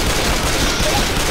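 Rapid, dense gunfire from a zombie shooter video game, a loud unbroken burst of overlapping shots filling a brief moment close up.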